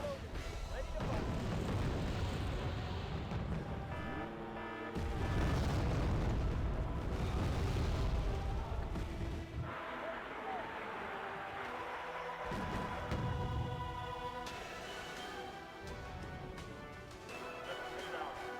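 Soviet artillery fire and shell explosions in the strategy game Wargame: Red Dragon, a run of loud, heavy booms and crashing blasts that rumble and overlap for the full length, with brief lulls between salvos.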